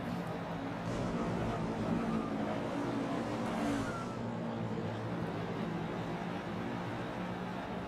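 Race cars roar continuously around the Oswego oval in a racing video game, a steady dense engine drone with a car swelling and passing mid-clip, no talk over it.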